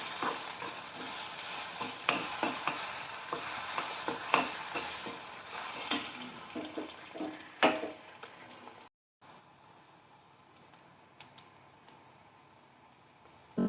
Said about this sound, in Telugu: దాంట్లో ఇప్పుడు మనం తీసుకున్న కోడిగుడ్లను వేసుకోవాలి. వేసి బాగా ఫ్రై చేసుకోవాలి.